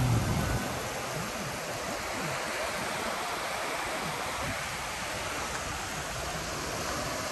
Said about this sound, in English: With the waves coming in, nice and calm.